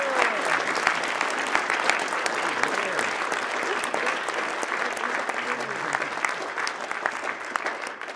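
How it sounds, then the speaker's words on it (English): A ceremony audience gives a sustained round of applause for newly commissioned US Air Force second lieutenants, steady dense clapping filling the hall for the whole stretch with a few louder individual claps standing out. "let's give our new second lieutenants one more round of applause"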